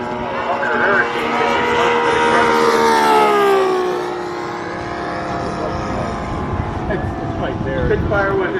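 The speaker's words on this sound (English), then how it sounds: "Spitfire was an interesting airplane powered by the Rolls-Royce Merlin engine" A camouflaged Spitfire with a Rolls-Royce Merlin engine flies past at the Warbirds Over Delaware airshow, a loud droning engine whose pitch swells and sweeps as it passes, with someone talking over it.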